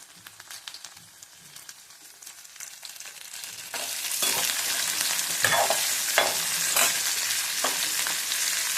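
Pirandai frying in a pan starts as a quiet crackle and swells after a few seconds into a loud, dense sizzle, broken by occasional scraping stirs, heard close with no voices.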